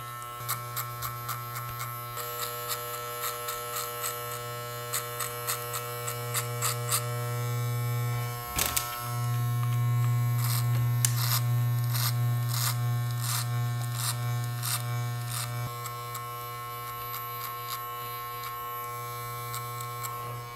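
Cheap electric hair clippers cut hair during a self-administered mid fade, a steady close buzzing hum running throughout, briefly interrupted once, with scattered snipping and rustling on top and no talking.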